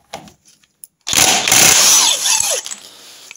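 An impact wrench zaps the camshaft nut off a Norton Commando engine during a rebuild, a loud sustained whirring burst of about a second and a half after a few faint clicks, then tapering off.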